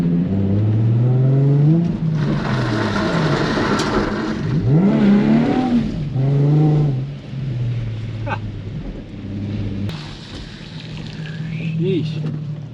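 Nissan 350Z driven hard on a wet road, engine revving up and down in surges with tire spray and hiss, loud and close inside the car, with a voice talking between bursts.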